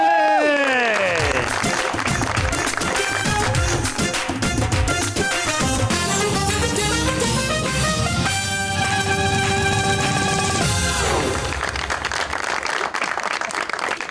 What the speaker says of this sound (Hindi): आपकी भरपूर तालियां हैं, प्लीज वेलकम अहम आजिद और सलीम अल बेला